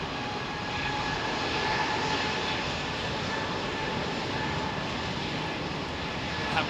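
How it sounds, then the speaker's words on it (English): A jet airliner passes at Heathrow Airport ahead of Storm Ciarán, its engines producing a steady, broad, fairly loud roar that holds for several seconds. "how quiet is that aeroplane?"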